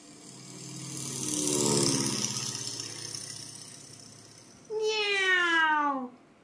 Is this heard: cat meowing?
yes